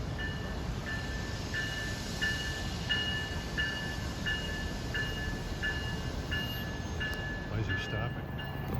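A New Jersey Transit express train running from New York to Trenton approaches steadily, a sustained rumbling roar with repeating high-pitched rhythmic tones riding over the rolling noise.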